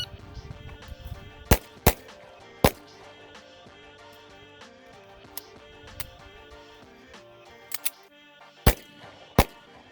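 Handgun shots fired during concealed-draw practice at a range, sharp loud cracks spaced irregularly, about nine in all, some in quick pairs, with faint background noise between.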